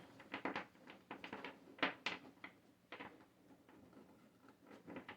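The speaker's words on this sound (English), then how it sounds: "can't shuffle these cards right now for some reason" A deck of playing cards is handled and shuffled clumsily, giving faint, quick papery flicks and clicks in uneven bursts, close but quiet.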